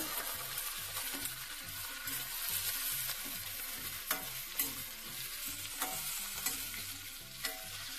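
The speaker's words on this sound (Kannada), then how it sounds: "ಇದು ಅರ್ಧ ಬರೋ ತನಕ ಬೇಯಿಸ್ಬೇಕು ಎಣ್ಣೆಗ." Gongura greens fry in oil in a kadai with a continuous close sizzle, and stirring adds soft rhythmic scrapes and small pops throughout.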